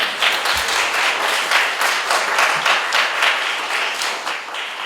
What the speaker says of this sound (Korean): 자, 우리 3학년들 박수 한번 부탁합니다.